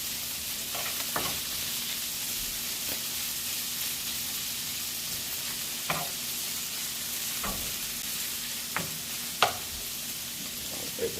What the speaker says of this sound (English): You want to get a nice fry on this, get it nice and crispy.